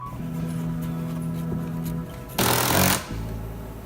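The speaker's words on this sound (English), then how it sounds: "Once I remove the waste with a router, I then clean up any remaining material with a chisel." A router hums steadily, then bites loudly into wood for about half a second, chewing out waste for a steel bracket recess during a 30-foot bar installation at a brewery. The motor drones on after the cut.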